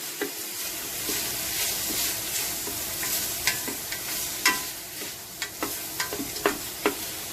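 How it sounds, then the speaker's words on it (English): Shallots and garlic sauteing in a pan over medium-high heat for Singapore curry chicken, a steady close sizzle broken by repeated sharp clicks and scrapes of stirring. "the shallots and garlic, let it saute for a few minutes."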